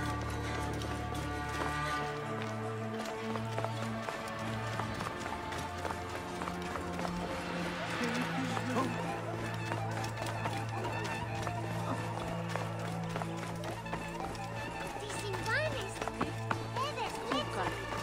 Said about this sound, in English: First, we must get my horse.